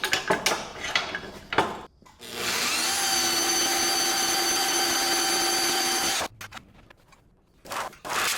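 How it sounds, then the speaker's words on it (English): A power drill bores out and enlarges a hole during property repair work, whining loudly and steadily for about four seconds between clattering handling noises and short bursts before and after. "we just gotta drill that hole out a little bigger"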